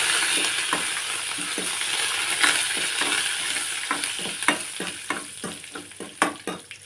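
Curry leaves frying in a pan, stirred with a steady run of clicking scrapes over a continuous sizzle that grows more rapid and pronounced toward the end.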